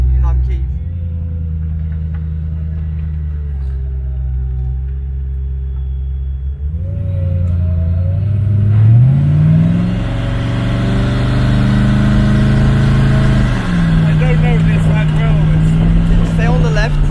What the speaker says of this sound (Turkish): Evet arkadaşlar, bir Regera ile şu an piste çıkmak üzereyim